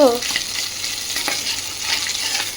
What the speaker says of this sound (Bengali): এবার মাছটা একটু উল্টিয়ে দিয়ে আসি